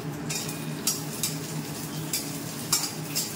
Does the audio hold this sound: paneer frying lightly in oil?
yes